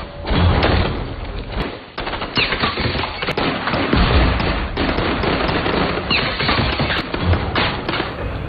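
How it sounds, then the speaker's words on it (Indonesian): Sustained bursts of gunfire crack in rapid, irregular volleys from a source out of view, with sharp shots and dull thuds layered into a continuous loud barrage and no talking. "tembakan terus berdesingan dari arah yang masih belum mereka ketahui"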